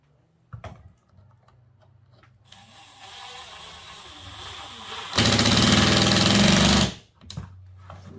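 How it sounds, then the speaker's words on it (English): A power drill drives a screw into a ceiling drywall patch in one loud, steady whir lasting under two seconds, preceded by quieter fiddling and a faint hum. "And then you put another screw in right here."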